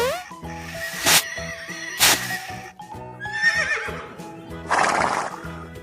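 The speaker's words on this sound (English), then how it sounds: "Brown horse." A toy horse lets out recorded neighs, two sharp bursts followed by a longer whinny and a final noisy snort, set against a bouncy electronic melody.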